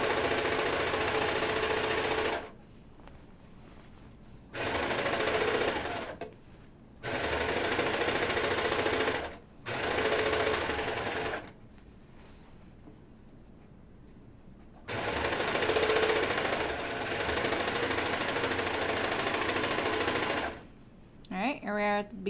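A serger sewing machine stitches the edge of the fabric in several loud, steady mechanical bursts of a few seconds each, separated by quiet pauses, close up.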